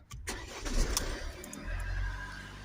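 A Mercedes ML 250 2.1 CDI diesel engine cranks and fires up close by, then settles into a steady low rumble at idle.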